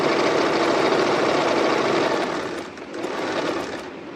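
A sewing machine runs a steady stitch along net and lining fabric of a long frilled skirt, a close continuous mechanical whir that dips briefly near the end before resuming.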